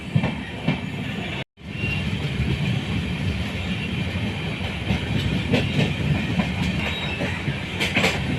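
The Sairang to Kolkata Express passenger train rumbles steadily along the rails with rhythmic clickety-clack of wheels, loud and close, with a brief dropout early on.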